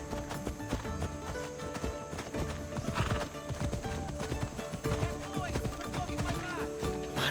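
A horse gallops with rapid, continuous hoofbeats and whinnies repeatedly in the open-world game Assassin's Creed Odyssey, riding over background music with a brief voice, loud and close throughout.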